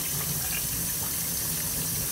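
Water spraying and pouring through the oil drain of a motorcycle cylinder removed from an AMF-era Harley-Davidson Shovelhead Lowrider, a loud, close, continuous gushing splash with no talking.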